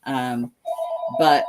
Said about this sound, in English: excuse the phone ringing there